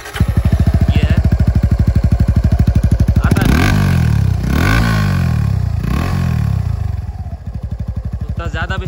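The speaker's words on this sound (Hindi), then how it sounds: "हम आपको सुनाएंगे इसका एग्जॉस्ट का स्लिप ऑन का साउंड" A Suzuki Gixxer SF 250 motorcycle fitted with a slip-on exhaust idles with a loud, close, rapid thumping beat, then revs up and down several times in short rising and falling bursts before settling back to idle.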